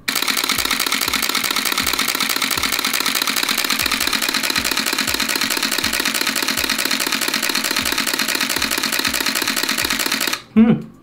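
A camera shutter fires in a rapid continuous burst, clicking evenly for about ten seconds before stopping with a short sound at the end.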